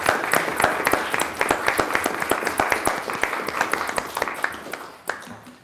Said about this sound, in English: And if we could perhaps clap